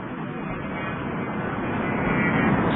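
A steady, droning jet roar from an A-10 climbing in LOMAC (Flaming Cliffs), swelling slightly louder as it gains altitude, with no talk.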